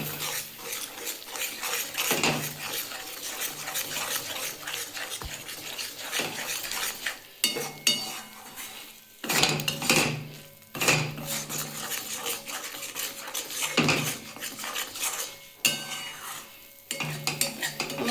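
Banana stem paste with mustard and poppy seeds being fried and stirred in a pan, with repeated spatula scrapes and metal clinks over a soft sizzle, close and uneven, no speech.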